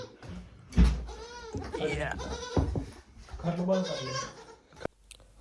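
A goat bleats several times in wavering, nasal cries at close range on a goat farm, with a thump partway through and occasional shuffling.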